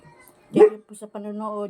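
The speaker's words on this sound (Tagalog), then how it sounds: "Yan ang aso ko" A pet dog gives a short bark followed by a brief whimpering yip, close by, while someone talks.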